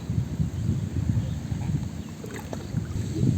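A small boat moves across water with low, steady wash and wind rumble, no voices, fairly close and continuous.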